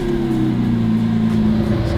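Stock 2020 Lamborghini Aventador SVJ engine idling at a steady, low rumbling hum, close by and continuous with a slight wavering in pitch.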